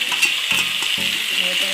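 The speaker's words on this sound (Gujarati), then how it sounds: "ત્યારબાદ આપણે તેમાં સમારેલી ડુંગળી, ટમેટા અને ગ્રીન મરચાં એડ કરીશું." Chopped onion, tomato and green chili hit hot oil in a pan and sizzle steadily, with a spoon knocking against the pan about twice a second, no voices.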